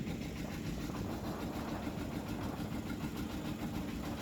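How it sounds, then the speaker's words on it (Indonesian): Diesel engine of a fishing boat running steadily with its gearbox engaged, a constant loud low throbbing drone with no break throughout. "Ini sudah mulai agak kencang nih, sudah dijalankan lur gearboxnya."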